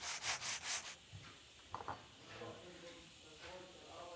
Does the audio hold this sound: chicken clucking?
no